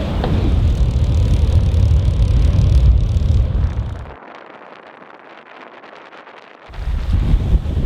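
Heavy wind of about 20 knots on a cruising boat buffets the microphone in loud, roaring gusts, easing briefly to a thinner hiss before the low rumble surges back.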